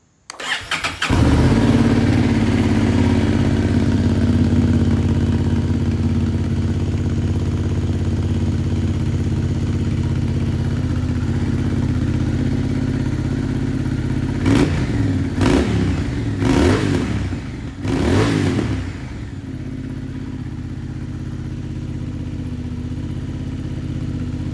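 A 2025 Honda CB750 Hornet with a Delkevic slip-on exhaust starts up and settles into a loud, steady idle close by, then gets three or four sharp throttle blips near the end before dropping back to idle.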